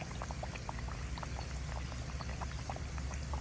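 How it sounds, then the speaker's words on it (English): A Jacuzzi J-SS40 salt cell fizzes and bubbles hard in a bath of muriatic acid, giving a dense, continuous crackling hiss up close with no speech. "as long as it's bubbling this bad, you still need to leave it there"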